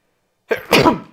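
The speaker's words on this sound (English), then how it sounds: "I'm going to sneeze in a minute." A single loud, close sneeze from a man at a tabletop wargame, a brief intake followed by a sharp burst, alone without talking.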